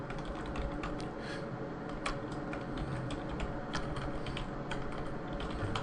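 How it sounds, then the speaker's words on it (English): Rapid clicking of keys on a computer keyboard, continuous and close, with irregular bursts of taps and no talking. "pardon my typing."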